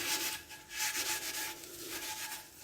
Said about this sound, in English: wire cleaning pad, very soft wire, just gently rub over the rivets, making sure you don't touch the copper pan.